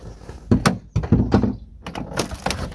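A door is opened with a run of close, heavy thunks and knocks, followed by rattling and a brighter scraping clatter as it moves.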